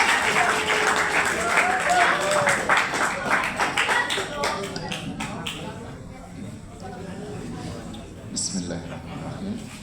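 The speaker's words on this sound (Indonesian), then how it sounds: "beri tepukan aplaus untuk Pak Mega." Applause for Pak Mega at a school socialization session at SMK Al Azhar Baloi, strong clapping from an audience that thins out into scattered claps and fades, with voices murmuring through it.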